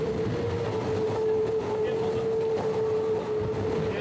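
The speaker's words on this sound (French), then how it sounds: "ça commence à être pas mal le son du bateau" Steady roar of a racing sailboat rushing through water at about 40 knots, with a constant tonal hum riding over broadband wind and hull noise.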